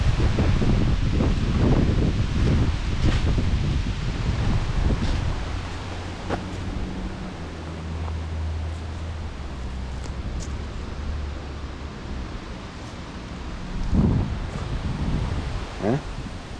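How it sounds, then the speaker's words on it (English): Strong outdoor wind buffets and roars across the microphone in steady gusts, with low rumbling swells and rustling bursts throughout, loud and close around a 2015 Audi S3. "it's so windy"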